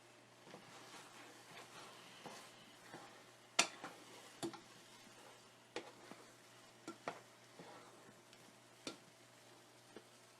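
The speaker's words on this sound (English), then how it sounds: "give it a little bit more of a stir" Stuffing mixture stirred in a pan, with faint scraping and scattered sharp clicks of a utensil against the pan over a soft background hiss, quiet and close.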